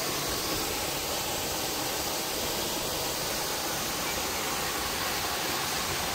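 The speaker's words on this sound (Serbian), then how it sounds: "Kada vam snimim, evo ga vodopad." Waterfall at Blederije near Kladovo, a steady, unbroken rushing roar of falling water that fills the whole stretch at constant loudness, with no voices.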